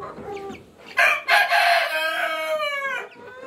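Backyard farm chickens, including young Rhode Island chicks, cluck and call close by, with a rooster-like crow rising loud and drawn out midway through a few seconds of busy fowl noise.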